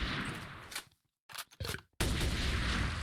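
A few sharp gunshots go off in the video game Manufactio, loud bursts separated by brief drops to near silence, followed by sustained noisy game sound, with no voices.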